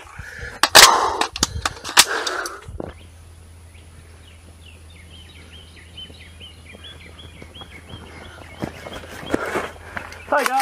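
Sharp gunshots from an RH10 crack loudly in quick succession during a shooting match run, followed by a long quieter stretch with a low steady hum and faint distant chirps, then more scattered pops toward the end.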